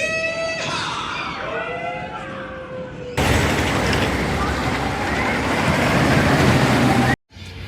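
Renegade roller coaster at Valleyfair, ridden in the back row: a voice with tones first, then a loud, steady rushing roar of the ride in motion that cuts off abruptly near the end.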